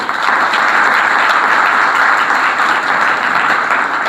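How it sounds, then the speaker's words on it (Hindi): A church congregation applauds steadily and fairly loudly throughout, a dense, even wash of clapping with no speech over it. "तालियां बजाएं इसके लिए।"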